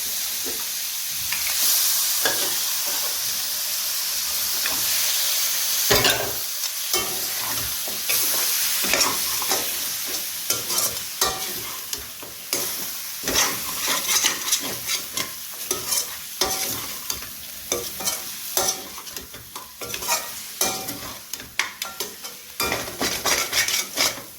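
Nalli mutton bones sizzle loudly in hot oil in a pan while being stirred, with repeated scraping and clattering strokes of a utensil over a continuous frying hiss that turns choppier and more rhythmic toward the end.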